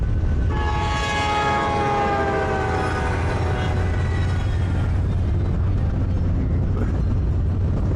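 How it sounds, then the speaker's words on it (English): A train horn blares loudly for a few seconds at a crossing over the heavy roar of rolling rail cars, then fades while the rumble continues. "You did a good job getting him to honk his horn at that crossing."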